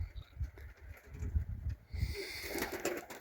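Low, murmuring coos of Turkish Takla pigeons repeat in short pulses, close by, with a rustling hiss rising toward the end.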